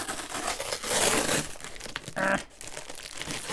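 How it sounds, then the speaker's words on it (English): Wrapping paper crinkles and tears close by as a parcel is unwrapped, with bursts of loud rustling and a sharper rip in the middle. "I'm sorry about the rustling, can't really be helped, it's wrapping"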